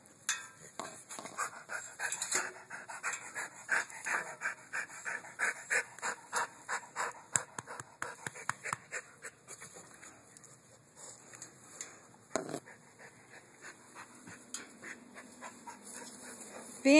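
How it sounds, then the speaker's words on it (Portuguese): A pit bull pants rapidly and rhythmically close to the microphone, a steady stream of quick breaths with a brief whimper, in a quiet room. "Ai, que cachorro fofo."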